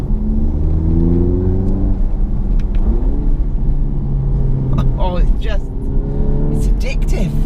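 A 2018 Audi TT with an aftermarket exhaust revs hard, its engine note climbing and falling through gear changes with small exhaust pops, close and loud beneath someone talking over it.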